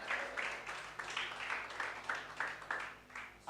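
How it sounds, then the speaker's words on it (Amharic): A church congregation claps in praise to the Lord, steady rhythmic applause from many hands in a large room, pulsing in regular waves. "ለጌታ ክብር አጨብጭቡ"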